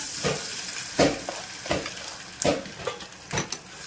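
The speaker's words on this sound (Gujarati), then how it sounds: "પછી આપણે આનો વઘાર કરી લઈશું." Curry leaves in a tempering (vaghar) of hot oil, heard as short bursts of sizzling with quick utensil scrapes and clinks in an uneven rhythm, close and moderately loud, with no speech.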